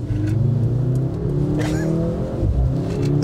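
Mercedes C63 AMG engine pulls hard under acceleration from inside the car, a close, rising growl that climbs through gears with a brief shift in the middle, heard alone without talk.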